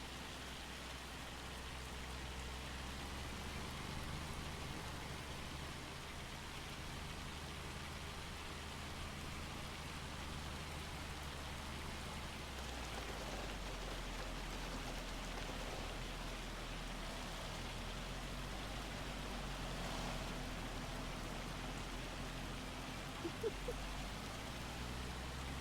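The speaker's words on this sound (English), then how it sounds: "It's hailing again." Hail falling outside, a soft continuous patter like rain on a surface, faint and distant, steady throughout with no voices.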